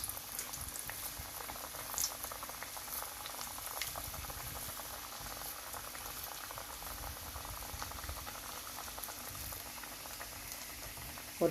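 Lentil vadas fry in hot oil, giving a dense, steady crackling sizzle with scattered pops, close and continuous for the whole stretch.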